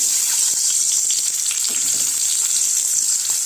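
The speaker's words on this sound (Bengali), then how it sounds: "তেলটা আমার গরম হয়ে গেছে, এবার একে একে আমি এই ডিমগুলো ছেড়ে দেবো" Eggs sizzling and frying in hot mustard oil in a pan, a steady, close, dense crackle and hiss that holds evenly throughout with no voices.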